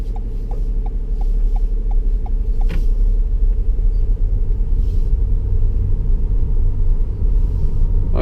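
A car moves off during a driving lesson, heard from inside the cabin as a steady low engine rumble, with an indicator ticking rhythmically for the first couple of seconds and a soft knock partway through.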